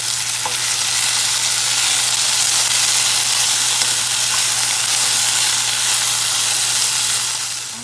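Mushrooms and peppers sautéing in a pan over low heat, a steady loud sizzle and hiss that runs continuously with a faint low hum underneath and no talk.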